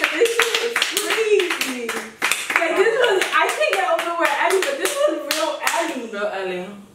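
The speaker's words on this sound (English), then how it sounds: "Yo, can we clap one time for this shit?" Several people clap together in a quick burst of sharp hand claps, mixed in with loud, excited talking nearby.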